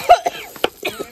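Several short, close coughs break out one after another in a kitchen where pungent chili fumes rise during cooking, a choppy run of hacks with no speech.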